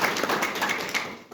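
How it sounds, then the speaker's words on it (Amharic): A church congregation claps in praise, a steady patter of many hands close by, continuing evenly for a moment before tapering off. "አጨብጭቡ ለጌታ"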